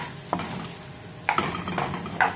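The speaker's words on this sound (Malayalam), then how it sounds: "വഴറ്റിയെടുക്കണം ഈ പച്ച വെളിച്ചെണ്ണ ഒഴിച്ചിട്ടേ നന്നായിട്ടൊന്ന് ഇങ്ങനെ നല്ല രീതിയിൽ ഇങ്ങനെ വറ്റിച്ചെടുക്കണേ" A spoon stirring food sautéing in raw coconut oil in a pan over a soft steady sizzle, with a few sharp metallic scrapes and taps standing out, close by and with no voices.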